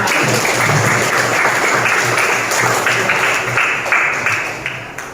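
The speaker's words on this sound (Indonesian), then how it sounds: "Kita kasih tepuk tangan untuk kita semua." A classroom of pupils clapping together after group presentations, loud and close with a steady rhythmic patter that holds throughout, then tapers off at the close.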